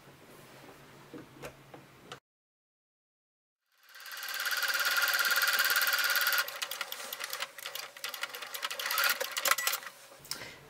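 A sewing machine stitches a seam through quilted fabric for a hanging fabric basket, running in a steady loud burst after a short silence, then continuing in choppier, uneven runs.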